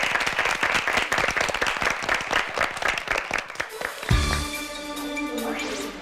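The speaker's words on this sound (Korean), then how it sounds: "두 학생에게 박수 한번 부탁드리겠습니다" Studio audience applauds two high-school students after a one-on-one debate at a national assembly speaker's cup debate competition, dense clapping for about four seconds that stops abruptly, followed by a musical sting.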